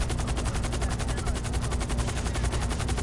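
Rapid automatic gunfire from a video game, Grand Theft Auto, a continuous dense burst of shots that fills the whole stretch at steady loudness with no talk over it.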